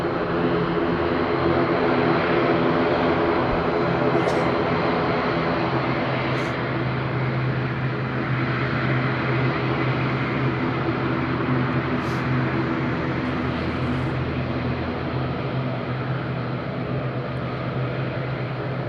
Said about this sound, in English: you can watch the Binter landing from the morning